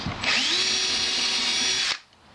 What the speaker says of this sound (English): So I'm just going to drill another pilot hole